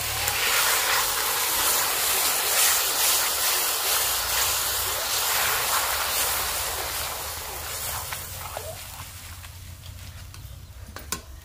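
Tomato paste hits onion paste that is already frying in a pan while a gourd kofta curry with peas is cooked. A loud, steady sizzle and hiss runs throughout and eases slightly toward the end, with no talking.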